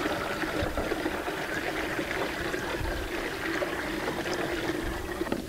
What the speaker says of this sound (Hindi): पूरा टंकी भर ले पानी डाल